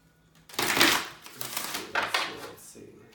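Tarot cards being shuffled by hand, a brisk rustling riffle in a few bursts, close and moderately loud, with no voice over it.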